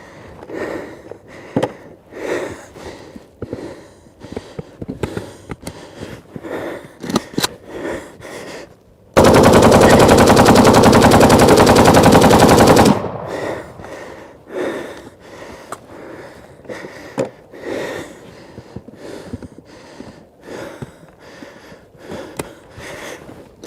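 An overheated AK-47 fires a long, loud, sustained burst as ammunition cooks off, set among irregular sharper bangs and handling noises before and after.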